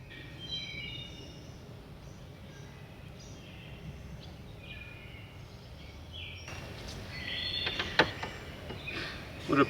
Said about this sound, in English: The birds are just amazing, just singing away.